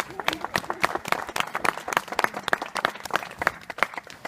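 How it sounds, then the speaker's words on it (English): An audience claps in a loose, uneven rhythm of distinct, fairly close hand claps, with individual claps standing out rather than blending into a dense roar. "You can clap for that."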